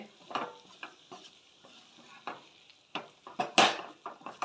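A spoon stirs prawn roast in a pan with scraping strokes and faint sizzling, irregular spaced scrapes close by, one louder clatter near the end.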